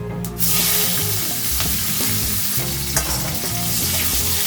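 Vigorous close sizzling of seeds and chilies frying in hot oil, starting abruptly and crackling steadily with stirring sounds.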